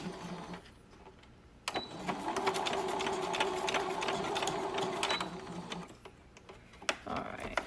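Sewing machine stitching a homemade filtered fabric mask, running in a steady rapid whir for several seconds between short pauses, close and clear.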